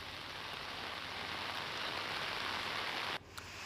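Heavy continuous monsoon rain in Palghar district, a steady, even wash of hiss at moderate level that holds without change, then drops away sharply near the end.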